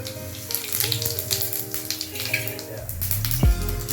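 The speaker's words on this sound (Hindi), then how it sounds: "अब मैं तेल डाल रही हूँ, सरसों का तेल, जीरा डाल रही हूँ" Cumin seeds are added to hot mustard oil in an Indian home kitchen and sizzle steadily, fairly close, with a sharp clatter near the end.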